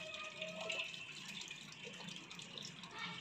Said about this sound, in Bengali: আমি মাসির গাছের সব জল দিয়ে দিচ্ছি